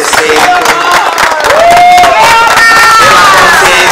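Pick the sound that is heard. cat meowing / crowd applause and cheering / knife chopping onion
crowd applause and cheering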